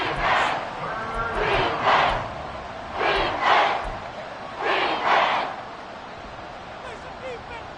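Stadium crowd roaring in a Madden football video game, with broad swells of cheering rising and falling several times over a steady bed of crowd noise, loud and continuous.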